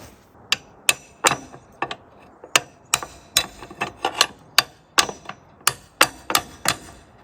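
A hammer drives a hinge pin out of a door at a homestead in Alaska, giving a series of sharp metallic taps that come close together at an uneven pace. The strikes are loud and near, with no talking.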